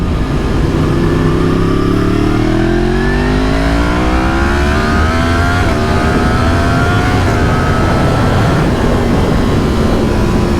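Yamaha FZ-10 motorcycle accelerating hard, engine pitch climbing steadily through the gears with a loud, continuous roar and wind rush, close to the rider with no voices.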